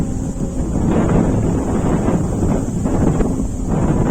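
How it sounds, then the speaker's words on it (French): Strong wind gusts outdoors at a lakeside house, a steady loud roar buffeting the microphone with low rumbling surges throughout, no voices. "il fait froid parce qu'il y a beaucoup de vent"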